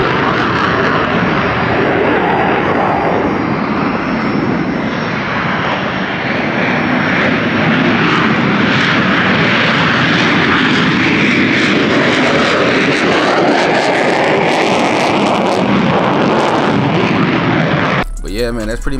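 A jet aircraft engine at an Alaska Air Force airfield gives a loud, continuous, broad roar that holds for many seconds and swells slightly as it passes.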